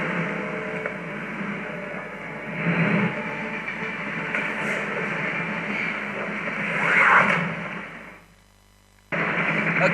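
Train in Splinter Cell Pandora Tomorrow, in Nice, France: a steady, loud rumbling roll with rising swells, cutting off abruptly near the end before resuming, no voices.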